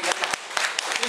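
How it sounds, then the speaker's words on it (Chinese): A conference audience breaks into warm applause as a traditional Chinese medicine master is welcomed, a brief burst of clapping with sharp individual claps close by and a voice heard over it. "热烈的掌声"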